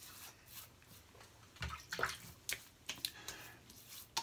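Water splashes softly as hands wet a face before a shave, giving a few faint, irregular splashes and drips in a quiet room, with the splashes growing more frequent toward the end.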